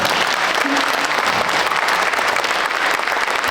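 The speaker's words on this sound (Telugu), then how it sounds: "మరి ఇంకోసారి చప్పట్లు కొడదామా?" An audience at a Sankranti celebration of the Telugu Association of North Texas gives a little girl a loud, steady round of applause for her stage dance, sustained clapping filling the hall with faint voices mixed in.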